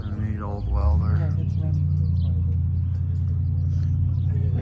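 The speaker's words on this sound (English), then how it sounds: "It drove by. What, 356? Neat old Porsche." An old Porsche 356 rumbles past nearby, a steady low engine drone building and holding, while a voice talks over the start.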